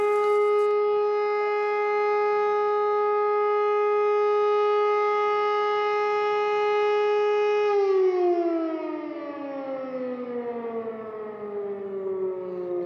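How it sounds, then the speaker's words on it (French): Loud civil defense alert siren wailing on one sustained tone, then its pitch sliding downward as it winds down, heard alone without talk. "Et là, il y a l'alerte qui s'est allumée."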